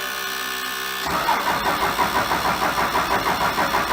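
A Cummins diesel engine in a Mack A40 truck cranks over after a quiet moment, with the starter churning in a loud, rhythmic, pulsing cycle close by.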